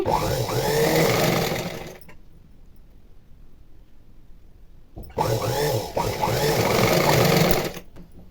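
A sewing machine runs close and steady while stitching thread piping on fabric, two loud sustained bursts separated by a few seconds of quiet.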